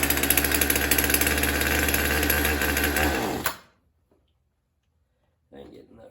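Choked chainsaw engine that had been sitting cold runs with a rough, buzzing idle for about three seconds, then cuts out to silence, followed by a brief faint noise near the end.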